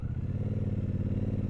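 Steady, close engine drone of a 2024 Triumph Speedmaster 1200 motorcycle while riding, with an even throbbing rumble and no speech.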